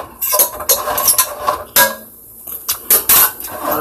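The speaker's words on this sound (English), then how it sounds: "So I'm gonna stir this on up." A utensil stirs teriyaki chicken drumsticks in a pressure cooker pot, making loud, close metallic scrapes and clinks in irregular bursts with brief pauses between strokes.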